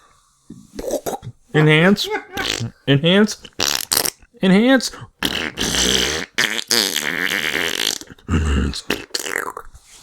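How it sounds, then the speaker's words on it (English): A loud, totally real fart in a gaming podcast setting, a burst among noisy speech and laughter, with people talking throughout. "Wow, that was a disgusting, totally real fart."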